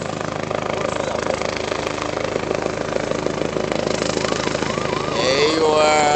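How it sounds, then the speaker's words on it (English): A helicopter coming in to land close by at a high school mock DUI event, its loud, steady rotor and engine drone building toward the end with a rising whine, under crowd chatter. "you might have some rotor wash by the helicopter coming in."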